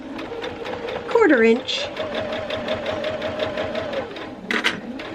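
A sewing machine runs close and rhythmic, back stitching along a fabric card wallet holder in short bursts of rapid needle clatter. A person talks over it.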